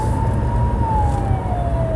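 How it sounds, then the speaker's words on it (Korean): An ambulance siren wails steadily behind a moving car, a single long tone gliding slowly downward over loud road and engine rumble, with no one talking. "뒤에 앰뷸런스 있어."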